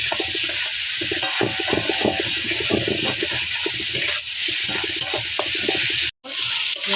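Onion and tomato with salt frying in a pan, a continuous close sizzle with occasional stirring scrapes, steady throughout and briefly cutting out near the end.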